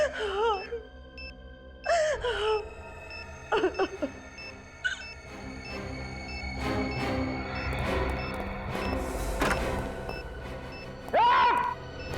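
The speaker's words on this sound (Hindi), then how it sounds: "रोने की आवाज?" A person sobbing and wailing in a building where a bomb is feared, with several loud moaning cries separated by pauses, over a noisy background.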